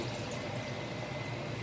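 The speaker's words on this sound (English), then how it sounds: "I just want to get this water on top of my meat." Water pours steadily into a pot over goat meat for curry, a continuous close splashing stream with no pauses.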